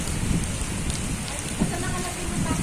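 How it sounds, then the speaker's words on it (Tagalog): Rain drumming on a house roof during a first rainfall in Qatar, a dense steady patter with scattered louder drops, fairly close and continuous. "Pumapatak na naman ang ulan sa bubong ng bahay."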